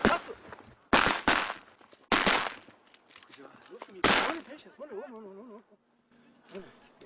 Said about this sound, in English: They've only deployed for a few yards before the shooting begins.